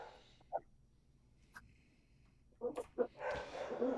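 Dogs bark a few times in a residential neighborhood, faint and distant at first, then with closer, louder barks and rising background noise toward the end.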